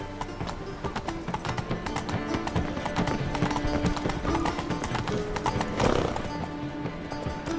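A horse gallops at speed in The Witcher 3: Wild Hunt. Rapid, rhythmic hoofbeats drum throughout, with a brief whinny-like swell near the end over game music.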